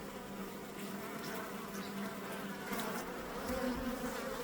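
Honey bees buzz in a dense, continuous drone around a caged queen in an open hive, close and steady with slight swells, and no voices.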